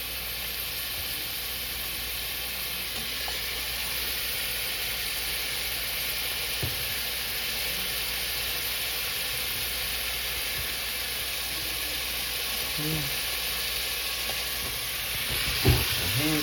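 Garlic fries in a pan over medium-high heat for albondigas meatball soup, giving a continuous, fairly loud sizzle with a broad steady hiss and a few faint clinks near the end.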